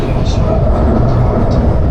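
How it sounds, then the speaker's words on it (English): A busy passenger train in China rumbles steadily, a dense, loud continuous roar of wheels and carriage noise with faint chatter mixed in throughout. "Oh, this train is even busier."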